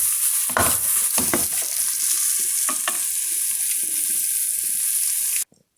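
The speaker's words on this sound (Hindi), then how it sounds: "अब मैं इसको डिश में निकाल लेती हूँ।" A spatula scrapes finished kalakand, a milk sweet, from a cooking pan into a dish. Several close, rough scraping strokes run over a constant hiss and stop abruptly at the end.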